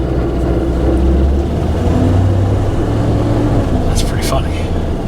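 A broken flex plate in the automatic-transmission engine of a high-mileage Chevy 2500HD Silverado pickup produces a steady, loud mechanical engine drone with uneven rumbling throughout, plus a brief sharper rattle near the end.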